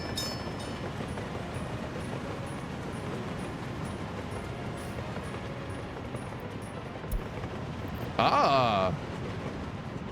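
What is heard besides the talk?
train from video game Workers & Resources: Soviet Republic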